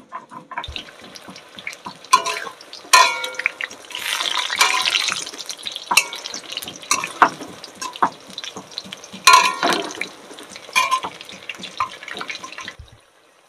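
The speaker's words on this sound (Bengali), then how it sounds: "তো ওদিকে পটলটা ভাজা হচ্ছে" Pointed gourd (potol) frying in oil in a village kitchen, a soft continuous sizzle broken by repeated stirring and scraping clatter, moderately close, with no talking.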